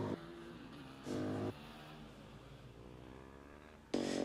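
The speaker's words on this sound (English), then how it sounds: "The car sounds really nice indeed." A Formula Student race car at an endurance event races past, its engine buzzing and rising in pitch, with sharp bursts of louder revving at the start and end, heard alone and moderately distant.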